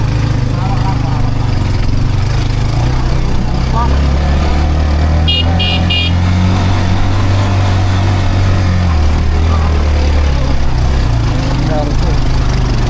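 A motorized tricycle's engine drones loudly and steadily, close by, with a brief horn toot midway and voices of people talking over it.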